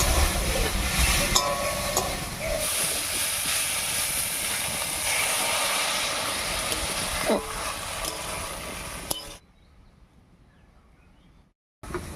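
Water splashed into a hot pan of fried spice paste in a village kitchen, a loud hissing burst of steam that fades into a softer sizzle and stirring before cutting to near silence.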